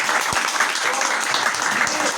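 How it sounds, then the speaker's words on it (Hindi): Audience applause for a guest, a brick-making craftsman from Sikar, Rajasthan, at a multilayer training session in Kamshet, Pune: steady dense clapping filling the room, fairly loud and continuous with a few low thumps. "एक बार इनके लिए जोरदार तालियां"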